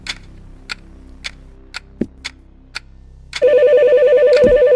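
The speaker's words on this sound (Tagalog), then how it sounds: "Pick up the phone." A telephone rings loudly and continuously in a video game about working as an embalmer, following a series of sharp, evenly spaced ticking clicks and a brief thud.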